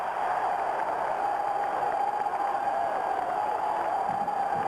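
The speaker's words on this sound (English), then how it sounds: "Listen to this crowd." A basketball arena crowd roars through a Minnesota Gophers timeout in a 1997 game against Wisconsin, a steady, dense wall of cheering with no clear talk.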